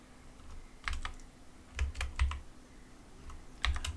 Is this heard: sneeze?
no